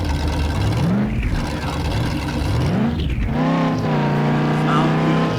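A monster truck engine in a Battlefield 2 game mod, a loud continuous motor roar that rises and falls in pitch as it revs, with someone talking over it.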